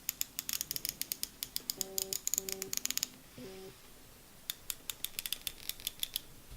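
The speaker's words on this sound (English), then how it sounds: "The bezel turns really great with satisfying clicks" Rotating bezel on a Corazon del Mar Melanocetus dive watch turned in quick runs of sharp, close clicks, with short pauses and faint mechanical handling sounds between bursts.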